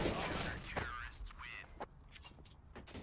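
Sharp gunshot cracks from CS:GO on the CT side at an ESL Pro League match, a few spaced bursts over game ambience while a caster talks excitedly throughout.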